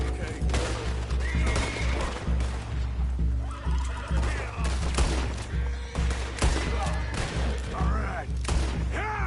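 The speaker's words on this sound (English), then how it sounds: "Gotta get the horses!" Horses in the Western video game Red Dead Redemption 2 whinny and neigh repeatedly amid loud gunfire, hoofbeats and music, in a tense, continuous action scene.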